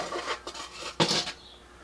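A bake element sliding out of a Frigidaire/Kenmore electric oven, with a few close metallic scrapes and clanks and one sharper rattling knock midway, in a quiet garage.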